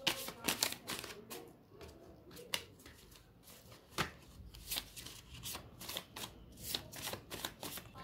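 Tarot cards being shuffled and drawn from a deck, a close, quiet run of crisp riffling flutters and slaps in irregular bursts.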